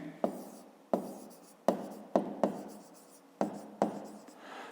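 Pen strokes scratch across paper in short, separate bursts, about eight quick sharp scrapes spaced irregularly, close and quiet with no talking.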